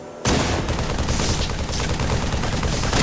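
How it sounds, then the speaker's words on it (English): Loud, sustained gunfire from the Halo 3 video game starts abruptly after a short quiet lead-in, with rapid shots filling the rest of the moment. "Oh, he's shooting at me."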